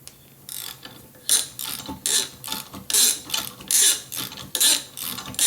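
A ratchet wrench tightens a bolt on the power steering pump of a 2012 Chevrolet Silverado, giving close, loud bursts of rapid clicking in a steady rhythm of short strokes with brief pauses between them.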